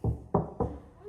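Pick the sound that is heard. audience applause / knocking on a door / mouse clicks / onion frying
knocking on a door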